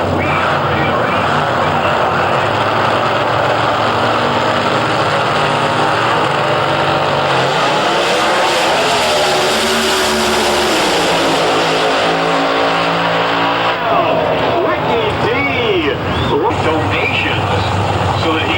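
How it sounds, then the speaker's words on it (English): A nitrous oxide injected 728 cubic inch Chevrolet drag race car roars at an IHRA drag race, a loud sustained engine blast that climbs in pitch and then fades, heard from the track side with crowd and announcer sound mixed in. "Dennis Radford going at it with that nitrous oxide injected 728 cubic inch Chevrolet"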